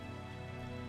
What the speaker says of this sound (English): So we're going to run down here in the rain.